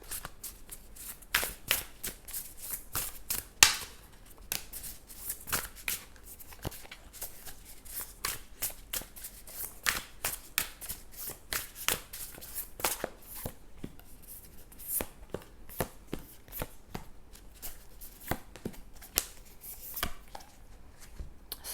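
Tarot cards are shuffled and drawn from the deck, giving a quick run of crisp slaps and papery flicks, fairly quiet and close. A few sharper snaps stand out. No talking is heard.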